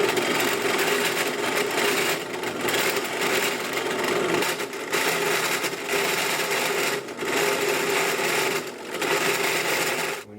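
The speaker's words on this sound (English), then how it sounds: "take my Dremel and file them out a little bit" A Dremel rotary tool filing out metal RC truck axle parts for an Axial Yeti, a continuous close high-speed grinding whir with brief dips as the tool is pulled away and reapplied, no talk.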